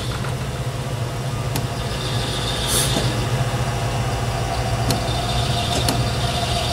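A metal lathe runs steadily after switch-on in a workshop while turning a diameter to size. It makes a continuous low hum with a few faint clicks and ticks, and no one speaks over it.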